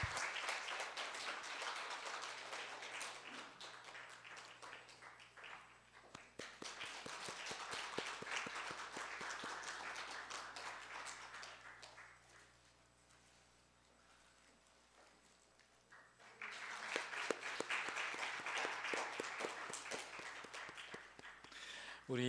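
A church congregation applauds at a Sunday morning Christmas service, with sustained clapping filling the hall, a lull partway through, then a second strong burst of applause.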